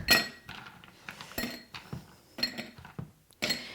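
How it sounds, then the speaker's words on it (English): Several hard clinks and rattles of ice cubes dropped into a glass for iced matcha in quick bursts, close and crisp, with short pauses between drops. "Next, we're going to fill our glass with ice."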